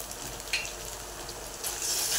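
Schezwan fried rice with Schezwan sauce and salt stir-fried in a pan, a steady soft sizzle with faint scraping and stirring noises, close and even throughout, with no talking.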